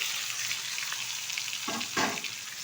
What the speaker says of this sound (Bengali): যে মশলা দিয়ে মেখে রেখেছিলাম সেই ইলিশ মাছটা আমি ঢেলে দিচ্ছি